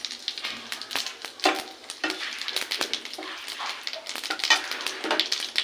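Cumin seeds sizzle in hot oil in a kadai (wok), a crackling, spattering fry with scattered clinks and stirring sounds, moderately quiet and without talk.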